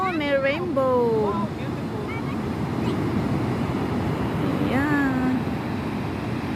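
Strong ocean waves breaking on a beach in Hamamatsu, Japan, give a steady, broad roar of surf throughout, while people talk over it at the start and again near the end.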